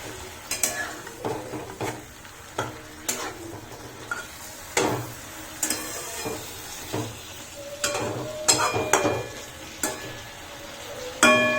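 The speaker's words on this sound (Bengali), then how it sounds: "জল অ্যাড করবো এতে," A cauliflower and paneer masala with no onion or garlic, cooked in a pan, gives soft sizzling under repeated scraping and knocking of a spoon against the pan in irregular bursts.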